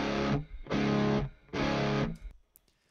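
Crackly, distorted broadband audio arrives in three loud bursts, each lasting around half a second to a second with short gaps between them, and then falls away to near silence.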